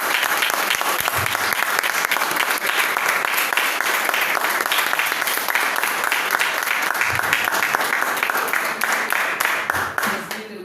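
Church congregation at a Sunday worship service clapping and applauding together, a loud, sustained wash of many hands lasting several seconds before tapering off at the end.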